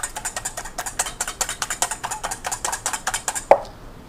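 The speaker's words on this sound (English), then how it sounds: "I'll just whisk up the egg" Egg being whisked in a bowl with five ounces of melted butter and milk for Christmas muffins, a brisk, steady rhythm of light rapid taps, close and clear, ending in one sharper clink.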